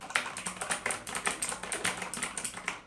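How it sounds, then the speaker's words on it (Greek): Rapid, steady typing on a compact Motospeed mechanical keyboard without a numpad, its clicky keystrokes close and distinct, alone and unbroken throughout. "Έχει αυτό τον ήχο του μηχανικού πληκτρολογίου."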